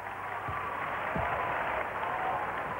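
A basketball crowd in Portland in 1992 gives polite, steady applause for Cuba's number 15 during a game against the US Dream Team. The clapping is a soft, continuous wash with a couple of faint low voice fragments underneath.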